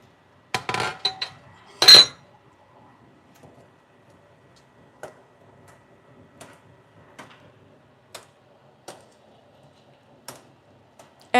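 Stainless steel pot lids clatter in a quick cluster of metallic clanks up close, followed by scattered light ticks and taps in a quiet kitchen.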